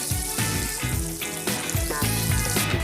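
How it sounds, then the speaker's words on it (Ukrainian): Dense, steady crackling sizzle of cheese-filled arancini rice balls frying in hot oil, with bubbling pops throughout; close and fairly loud, no voices. "Можна вже смажити. Обсмажуємо рівномірно з усіх боків."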